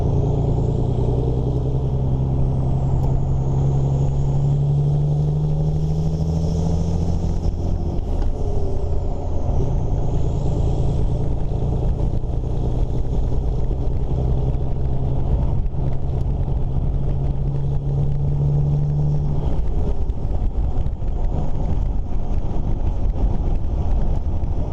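Volvo F16 H7 truck driving along at a rally, its low engine drone and rumble steady throughout with wind buffeting the microphone.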